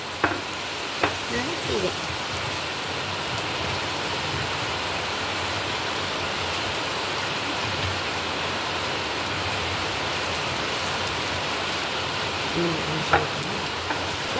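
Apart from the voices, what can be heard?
dosa batter sizzling on a stone griddle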